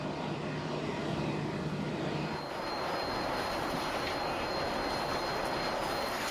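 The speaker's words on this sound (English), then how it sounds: "The pilots perform extreme maneuvers, pitching the plane up, then down," A Boeing 747 in flight roars steadily during a flight load survey with extreme pitch-up and pitch-down manoeuvres. The broad, continuous engine and airflow rumble shifts slightly in tone partway through.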